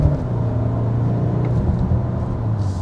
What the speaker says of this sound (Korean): 엔진 소리군요.